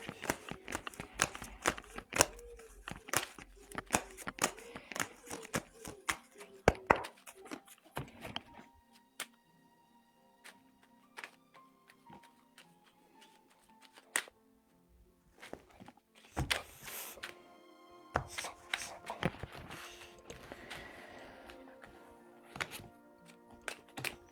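A deck of tarot cards is cut and handled close up, with soft repeated taps, shuffling flicks and thunks from the cards against a surface, quiet overall with irregular bursts.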